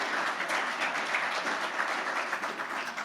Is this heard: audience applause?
yes